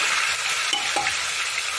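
Ground onion, garlic, ginger and green chili paste fry in hot oil, a loud, steady sizzle with a couple of brief stirring clinks.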